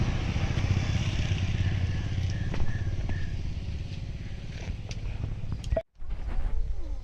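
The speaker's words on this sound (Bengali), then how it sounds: "সব বাইক রাইডাররা যাচ্ছে" Motorcycles ridden by a group of bikers pass along a mountain road at Zuluk, a continuous low engine rumble that swells and fades with the passing bikes, cut by a brief dropout near the end.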